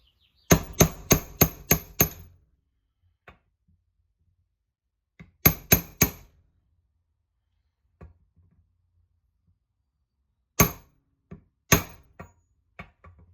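Sharp metallic taps of a seal being driven into a Harley-Davidson Softail engine, a quick burst of five close blows, then small clusters of two or three with scattered single faint knocks between, alone and near.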